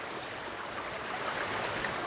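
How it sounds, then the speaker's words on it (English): Muthyala Dharma waterfalls rushing steadily, a dense broadband roar of falling water heard up close and unbroken, with no voices. "The beautiful and fantastic and wonderful waterfalls."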